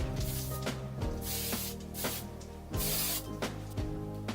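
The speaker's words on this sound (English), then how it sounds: "Going to use more of that Joico Power Spray" Joico Power Spray hairspray hisses onto curled hair in a series of close, loud spray bursts, some short and some longer, heard alone with no voice.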